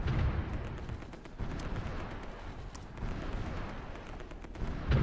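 Continuous artillery bombardment in the wartime strategy game Supreme Ruler Ultimate, a dense, rumbling wash of booming shell fire with heavier thuds swelling near the start and end, no voices.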